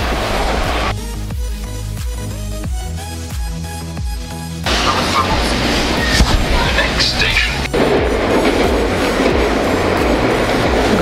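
Steady rumble of a metro train in motion, with rhythmic rail clatter and a loud whooshing roar building midway as it speeds through the tunnel.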